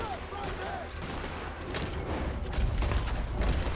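Gunshots from the video game Red Dead Redemption 2, a ragged run of shots and booms layered over steady game ambience, with a voice speaking at times.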